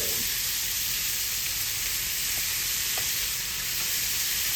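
Shrimp sizzling loudly in a pan, a dense, steady hiss of frying that fills the whole moment without pause, no talk over it.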